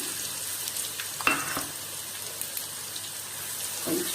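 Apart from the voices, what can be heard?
ginger garlic paste frying in a pan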